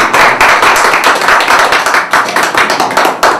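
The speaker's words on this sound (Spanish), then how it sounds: "Un aplauso, por favor." Applause from a TV studio audience on a Spanish-language cultural program, a steady, loud burst of hand claps that holds close and dense from start to finish with no voices over it.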